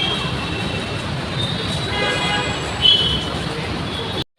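A metro train in Bangalore rumbles and whines into a station, with a brief squeal of brakes near the end before it cuts off.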